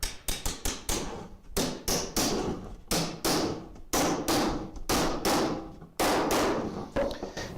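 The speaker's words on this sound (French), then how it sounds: "Le cercle de tête, il dépasse, donc lui je peux lui taper directement au marteau." Repeated sharp hammer blows on the head hoop of a wooden barrel at a cooperage, struck in quick bursts of several hits with short pauses between, close and ringing.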